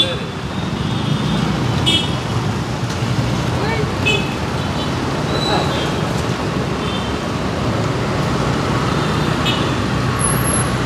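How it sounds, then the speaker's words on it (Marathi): Busy road traffic rumbling near Mapusa market, a steady broadband wash of passing vehicles with faint horn toots, while someone talks over it throughout. "आतां ह्या टायमार ट्रॅफिक कमी आहा"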